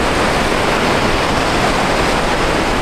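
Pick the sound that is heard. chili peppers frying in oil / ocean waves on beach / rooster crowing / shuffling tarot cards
ocean waves on beach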